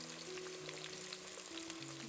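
Onion and pepper, added to a frying pan along with carrots, sizzle and crackle steadily and up close, with bright spattering and a low hum running beneath the sizzle.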